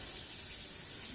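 Tap water runs steadily into a sink during handwashing, a continuous hissing splash at even level with no other sounds.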